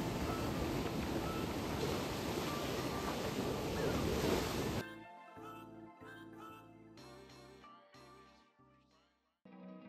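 Waves breaking on a white-sand beach in Mallorca, a loud steady rush of surf with wind for about five seconds, then cut off and replaced by music for the rest.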